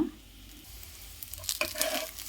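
Egg omelette mixture with onions, green chillies and coriander hitting hot oil, a faint hiss that grows into a brighter crackling sizzle midway, close and alone.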